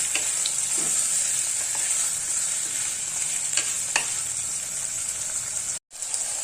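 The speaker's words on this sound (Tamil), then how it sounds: "காய்கறி வதங்கிட்டு இருக்கிற நேரத்தில் நம்ம இந்த இஞ்சி பூண்டு விழுதே சேர்த்துக்கலாம்" Vegetables with peas sautéing in a pan for wheat rava kichadi, a steady close sizzle with occasional stirring scrapes throughout, no voices.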